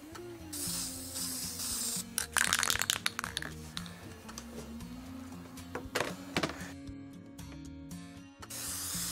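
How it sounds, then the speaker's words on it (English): A scale model water effect gets spray painted: hissing aerosol bursts come in short, irregular passes, close and fairly quiet, broken by small clicks and handling noises. "because we want to spray paint it now"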